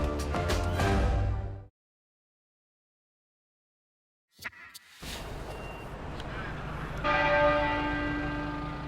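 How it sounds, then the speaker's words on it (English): Westminster Abbey's church bells ring out loud and full at first, then cut to silence, and return amid a busy outdoor wash of traffic and street noise, with the pealing tones rising again near the end. "the bells rang 99 times this evening, once for each year of his life"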